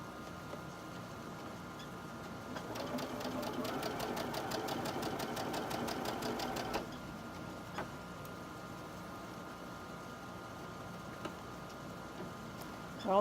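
A sewing machine chain stitches small quilt blocks for a barn block quilt, running in a steady rapid whirring burst for about four seconds before stopping, followed by quieter handling sounds.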